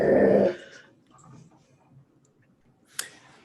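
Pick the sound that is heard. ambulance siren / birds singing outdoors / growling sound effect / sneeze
growling sound effect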